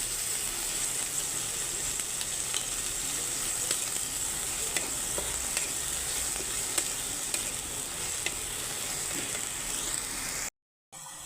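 Ginger garlic paste fries in hot oil for a katla fish curry, a steady soft sizzle with occasional light stirring clicks, fairly quiet and continuous until a brief cut near the end, with no voices.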